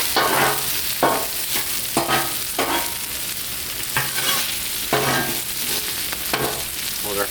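Potatoes and vegetables sizzle on a Blackstone griddle outdoors in the rain, a loud, steady hiss punctuated by regular scraping strokes of a spatula about once a second. No one speaks.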